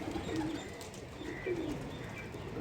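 Pigeons near a rooftop cage, soft cooing calls repeating twice over a low background hum, with faint chirps mixed in; moderate distance, fairly quiet and steady.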